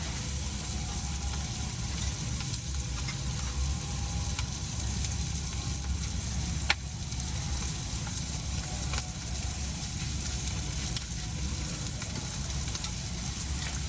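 An egg sizzles and fries steadily in a pan during an outdoor parking-lot cook, with a loud, continuous crackle and hiss that holds close throughout, broken by a few sharp clicks of utensils.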